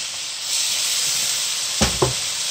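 Soy sauce hits greens in a hot pan, a steady close sizzle and hiss with two brief louder spits near the end as liquid splashes in, no voices.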